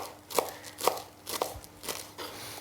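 A knife chops the tips off a fresh bunch of coriander on a board, giving several close, crisp thuds with a soft crunch, spaced at an uneven rhythm and heard without speech.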